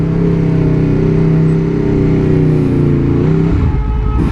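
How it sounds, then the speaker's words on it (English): An Aprilia V4 1100 motorcycle is ridden at speed, giving a loud, steady engine drone with a rising, strained pitch that shifts near the end, joined by rushing wind. "Oh, the bike is just flying now, enjoying it."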